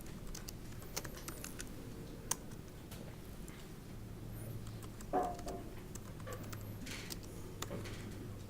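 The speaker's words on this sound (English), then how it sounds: "Typing." Keys tapping on a computer keyboard at a desk, a quiet, steady patter of clicks over a low background hum, with one sharper knock partway through.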